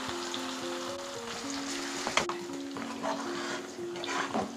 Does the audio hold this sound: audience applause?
no